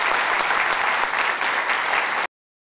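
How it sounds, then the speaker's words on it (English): An audience applauds speakers at a Wake Tech event on marijuana, a dense, loud, continuous burst of clapping that holds steady for about two seconds and then cuts off abruptly into silence. "I'd like you to give them a round of applause and thank them for being here"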